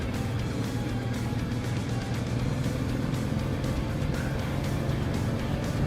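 A Honda Transalp 650 motorcycle on the move, its engine a steady low drone blended with rushing wind noise, constant and fairly loud with no pauses or gear changes.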